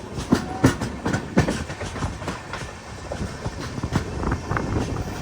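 An express train in sleeper class rolls into Karnataka at Karwar, its wheels clicking and thumping over rail joints in an irregular rhythm beneath a steady rumble of the moving carriage.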